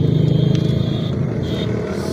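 A motorcycle running on a road in the Thar Desert of Pakistan, its engine a steady, fairly close low rumble with a pulsing rhythm that holds throughout, with no one talking.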